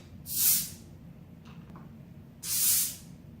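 A pressurized soda bottle opened twice, each time a sharp, loud burst of carbonation hissing that fades within about a second, with a quiet pause between the two releases.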